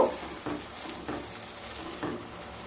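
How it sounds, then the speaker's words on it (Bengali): Spices sautéed in a pan with a little water on low-to-medium heat for a mixed vegetable dish, a soft continuous sizzle punctuated by three or four stirring scrapes, quiet and without voices. "মশলাগুলোকে আবারও খুব ভালোভাবে কষিয়ে নেব"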